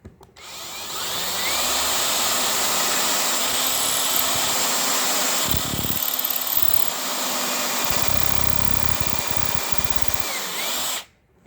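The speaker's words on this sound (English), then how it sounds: "I'm going to drill this hole" A power drill whines steadily as it bores a hole into a wooden cigar box, running about nine seconds with slight pitch shifts, then stopping abruptly; no talking.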